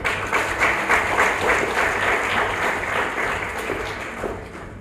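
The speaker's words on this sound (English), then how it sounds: "I want us to appreciate our chief guest with a clap." An audience at a launch event in Uganda claps for the arriving chief guest, a dense, continuous round of applause that holds steady and slowly eases off.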